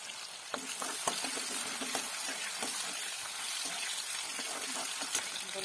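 Dried red chillies and chopped onion fry in a pan for spinach, giving a soft, steady sizzle with scattered stirring taps and scrapes, fairly faint and close.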